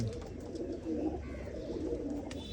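A champion pigeon coos in soft, low, throaty murmurs, faint and close, with light background noise and no talk.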